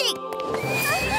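A horse whinnies in one short, near neigh that falls in pitch, heard under a voice with light rhythmic background sound.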